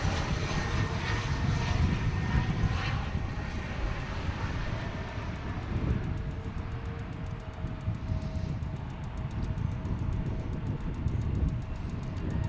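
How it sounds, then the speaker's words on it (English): An Embraer 175 airliner lands at Dallas/Fort Worth Airport after a flight from Missoula, Montana, producing a steady, loud jet roar with a broad rumble that holds for the whole stretch, with no talk over it. "175 landing from Missoula, Montana"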